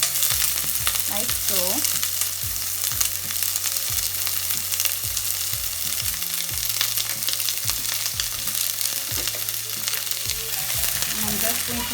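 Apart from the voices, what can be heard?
onion frying in a pot with vegetables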